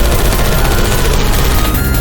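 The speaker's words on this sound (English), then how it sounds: "I heard gunfire." Dense, continuous gunfire in Portal 2, a loud unbroken barrage of rapid shots filling the whole moment.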